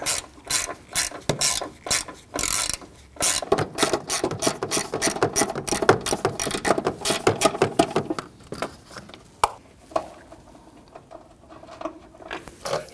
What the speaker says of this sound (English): I'm going to use my socket extension and 1/4-inch ratchet.